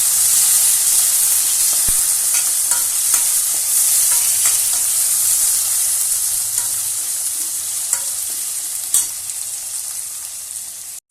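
Tomatoes sizzle and fry in a pan for a village-style fish curry, a steady loud hiss broken by a few scraping stirs of a spoon.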